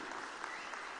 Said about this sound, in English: Get an applause.